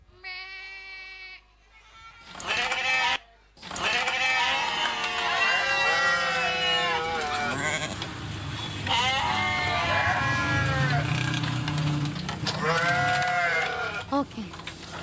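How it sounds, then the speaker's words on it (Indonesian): Sheep bleat several times in loud, wavering cries, with a burst at the start and more bleats spread through a busy, noisy background. "diiringi dengan riuh, bunyi-bunyian, yaitu dari suara domba"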